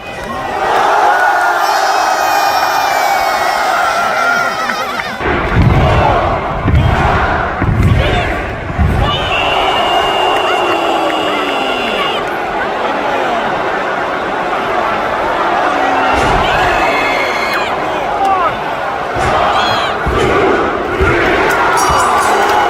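A packed arena crowd at a WWE live event in Paris in 2023 roars and cheers continuously, with loud whoops, chants and swelling bursts of noise that never drop away.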